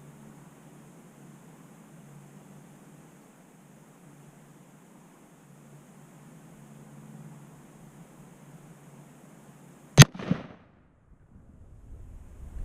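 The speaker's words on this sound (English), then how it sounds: "that shot, because I'm more square behind the rifle, the muzzle didn't go nearly as much to the right as it has been" A single sharp, loud shot from an H&R Handi-Rifle chambered in .270 Winchester, fired while sighting in outdoors. It breaks a steady low outdoor hum and leaves a brief echoing tail.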